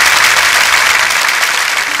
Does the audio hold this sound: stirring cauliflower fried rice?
no